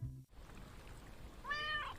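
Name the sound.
cat meowing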